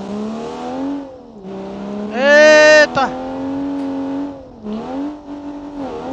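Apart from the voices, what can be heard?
Monza car revving in BeamNG Drive video game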